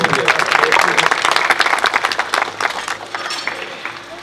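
An audience gives dense, loud applause at a village retirement ceremony for a schoolteacher in Sargodha, the clapping close and continuous before gradually thinning, with a voice audible beneath it.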